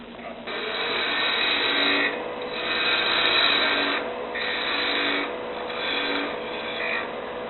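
On a lathe, a parting tool cuts into spinning wood with a steady, close rasping scrape that swells and eases in gentle waves, with no one talking.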